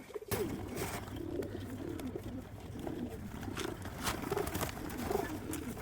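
Pigeons at an early-morning loft coo in repeated low, rolling calls close by, several birds overlapping throughout, with faint background noise and no talking.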